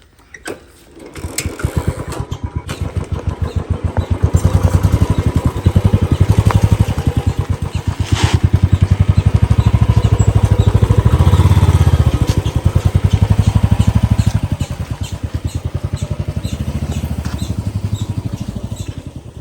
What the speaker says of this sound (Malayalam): ഞാൻ മെല്ലെ ബൈക്കിൽ വരാം